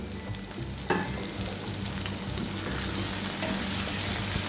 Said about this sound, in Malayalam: തുറന്ന് വെച്ചിട്ട് തന്നെ നമുക്ക് ഫ്രൈ ചെയ്തെടുക്കാം.